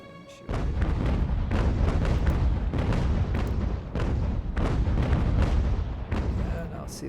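Cannon fire in a naval battle video game, a dense stretch of repeated booming blasts and rumbling impacts as a ship is attacked, loud and continuous with sharper bursts throughout.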